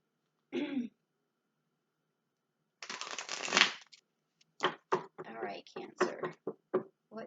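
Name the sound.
tarot cards being shuffled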